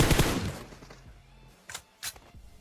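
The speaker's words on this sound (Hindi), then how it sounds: "इतने में ही वहां पे गोलियां चलती हैं जहां पे हम लोग उतरे थे पहले।" PUBG Mobile gunfire: a loud burst of rapid shots at first, then after a lull two sharp separate cracks ring out, with no talk over them.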